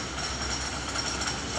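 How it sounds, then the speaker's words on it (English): A steady rumbling clatter of a short wooden-park roller coaster train running along its track at Upper Clements Park, Nova Scotia, continuous and fairly loud throughout, with no voices. "So the roller coaster at Upper Clements"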